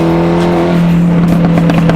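An Audi TT drives down the road with its engine droning loudly and steadily at close range, the tone holding even and then roughening slightly as it carries on.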